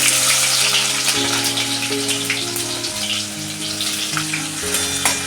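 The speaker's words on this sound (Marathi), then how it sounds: "तेल गरम झालेलं आहे आता कांदा टाकते" Chopped onion lands in hot oil seasoned with cumin and mustard seeds in a kadhai, making a loud, continuous frying crackle with steady sizzle, while faint tonal music plays underneath.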